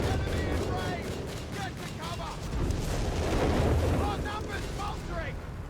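A Wespe 105mm howitzer on a Panzer II chassis fires in a Company of Heroes 3 battle, heavy booms rolling continuously through dense combat noise, with a voice talking over the din.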